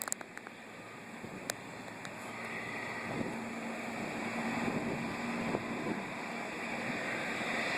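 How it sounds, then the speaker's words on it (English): Jet boat on the river at the Reversing Falls in Saint John, New Brunswick, heard at a distance, a steady rising engine roar over wind and water noise, with a few sharp clicks early on. "there's the jet boat in action"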